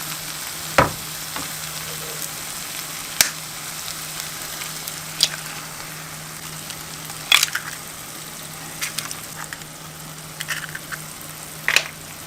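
Eggs frying in a pan with pomegranate for breakfast, a steady close sizzle throughout with occasional sharp clicks and taps of utensils, no talking.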